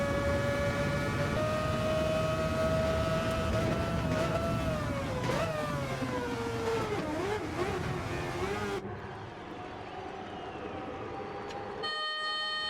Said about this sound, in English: Maybe rev it up in third.